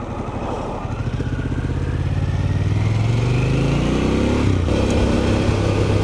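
A motorcycle rides along a rural road near Clevedon in East Auckland, its engine droning steadily and close, pitch rising gradually as it accelerates, then dipping briefly with a gear change before settling again.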